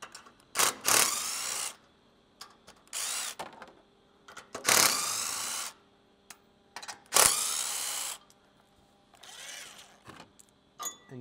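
A ratchet backs out 14 mm bolts from aluminum standoff blocks on a third-generation Toyota Tacoma crash bar, in several quick bursts of close clicking separated by pauses.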